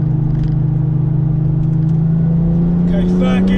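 A 575 bhp Porsche 911 996 Turbo X50 engine pulls hard under throttle, a loud, steady droning rev that climbs in pitch toward the end, heard from inside the car through a canyon corner.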